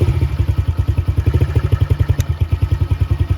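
A small dirt bike engine, a 2023 Honda CRF110 or Yamaha TTR110, idles close by with a fast, even, loud putter and light mechanical clatter, no talking.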